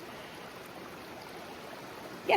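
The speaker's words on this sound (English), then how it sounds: "We actually have a little bit of water running through the stream." A small stream in rural Maine trickles with a faint, steady wash of running water, low and even throughout, ending in a brief louder bump.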